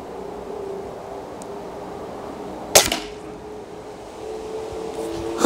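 A Reximex Lyra .22 calibre PCP air rifle fires once at a target, giving a single sharp crack midway over a steady background hiss and hum, with a faint second tap near the end.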